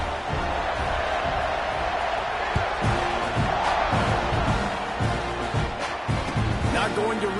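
Stadium crowd roar in College Football 26 at a Week 0 game against A&M, a steady dense rumble of cheering fans with occasional thumps and shouts, under a commentator's talk.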